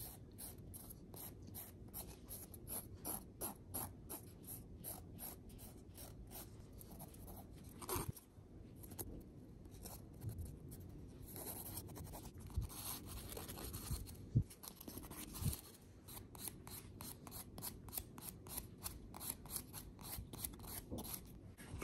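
A nail file smooths the corners of nails in quick, repeated scratchy strokes, faint and close, with a steady rasping rhythm and brief pauses between bursts of filing.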